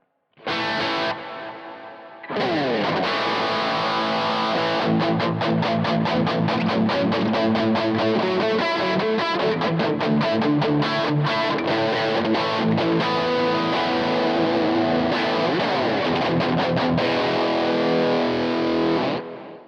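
An electric guitar through a JHS AT+ overdrive pedal into a Kemper Stage plays loud, gritty chords and fast riffs continuously after a brief opening strum, thick and saturated throughout.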